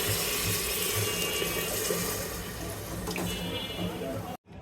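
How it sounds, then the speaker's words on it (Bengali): Water poured into a pressure cooker over beef browned with stone-ground spices makes a steady, close rushing splash that holds for about four seconds and then cuts off abruptly. "এখন এই যে পানি দিয়ে দেব আমি।"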